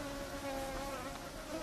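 Mosquitoes buzzing at a Sahara desert oasis in Libya, a steady close drone of high whining wingbeats that holds unbroken throughout, with no voices.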